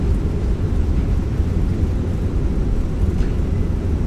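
An Airbus A321 rolls out on landing at Geneva with reverse thrust in a flight simulator, a loud, steady, broadband engine roar with deep rumble that holds evenly throughout and has no pauses.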